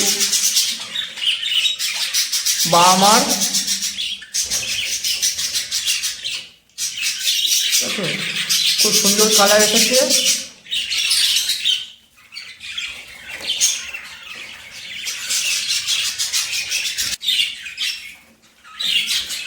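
Pet lovebirds kept for hand taming, with new chicks, squawk and chirp loudly and steadily at close range, with brief pauses, while a person speaks briefly over them.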